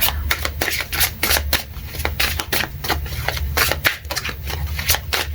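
Tarot cards are shuffled and drawn during a reading, giving rapid, crisp riffling snaps and flicks in irregular close bursts throughout, with no talk over them.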